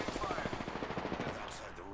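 Rapid automatic gunfire from the video game Apex Legends rattles in a quick, steady burst of shots. It sounds moderately distant and sits in a busy, dense game mix.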